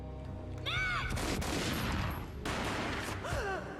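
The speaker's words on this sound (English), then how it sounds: "A gunshot boomed and she fell down in slow motion." Gunfire in the video game Max Payne: a dense burst of loud, close shots rings out in quick succession, joined by whooshing swept effects, with a second burst following after a short dip.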